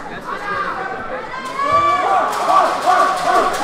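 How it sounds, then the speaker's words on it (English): A school basketball crowd at a boys' tournament game, Eilat versus Heschel, chatters and cheers steadily in a gym, with a commentator talking over the noise. "It sounds like the crowd wants Eilat to win."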